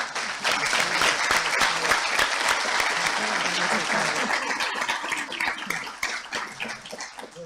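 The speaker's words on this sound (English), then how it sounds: "Let us rise and give a round of applause" Sustained applause from a large crowd at a graduation ceremony, dense steady clapping filling the whole stretch at an even loudness.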